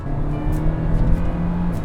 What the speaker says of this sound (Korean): 이렇게 좀 부하 걸리는 소리들이 들리죠. 엔진 회전수가 높아지면요.